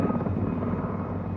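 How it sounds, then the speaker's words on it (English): Military helicopters fly over San Carlos Bay, their rotors and engines making a loud, steady, close roar that fills the short clip without any voices. "In San Carlos Bay, the helicopters ducked into the hillsides,"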